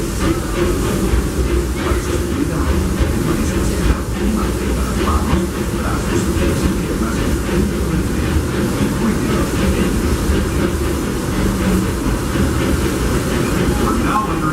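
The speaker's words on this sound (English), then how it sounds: "welcome aboard the Disneyland Railroad" Steady rumbling roll of the Disneyland Railroad train riding behind the steam locomotive Fred Gurley, with continuous wheel and track noise and hiss that stays loud and even throughout, with no talking.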